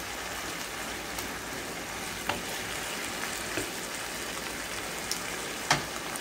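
Beef igado, an Ilocano dish with a few bird's-eye chilies, sizzles softly in a pan while being stirred, giving a steady low frying hiss with a few faint spoon clicks.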